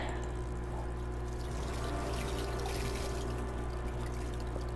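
Water flows steadily inside a cave labyrinth in a video game, a soft, even pouring trickle heard alone at low level.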